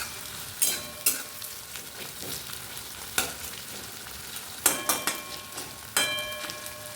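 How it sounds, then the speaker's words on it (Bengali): Onions frying in hot oil in a wok over moderate heat, a steady soft sizzle broken by sharp stirring scrapes and clatters at irregular intervals, close by with no voices. "তেল গরম হয়ে গেলে একসাথে পুরো পেঁয়াজটা দেবো না, একটু একটু করে ভাজবো।"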